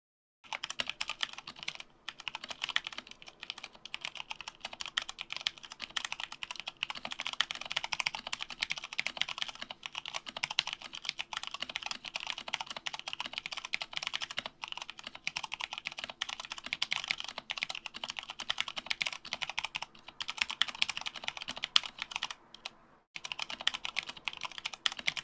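Steady typing on a keyboard fitted with PBT double-shot Aura keycaps, a continuous run of close, dense keystroke clicks with a few brief pauses, no talking.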